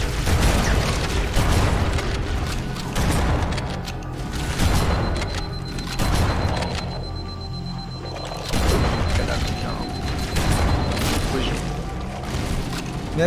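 Gunfire and explosions from Halo CE co-op play on maximum difficulty, with dense continuous booms and rapid shots filling the whole stretch at high loudness, players' voices mixed in underneath.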